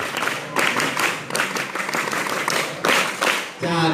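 Audience members clap together in steady bursts during a clapping game at a Ramadan religious lecture, the repeated claps close and fairly loud, with a brief voice at the very end.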